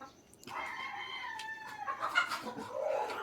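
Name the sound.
chickens clucking and crowing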